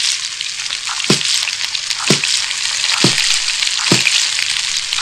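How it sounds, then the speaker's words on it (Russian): Steady sizzling of ingredients frying in oil in a pan in a cooking video game, with a few soft knocks as it is stirred. "Отлично, и все жарится."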